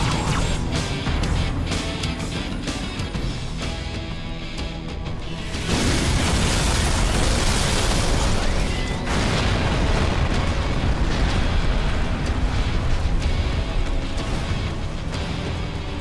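Rocket explosions in the Halo 2 Metropolis mission, loud booming blasts over dense battle noise, with a big burst around the middle that sustains a heavy roar to the end.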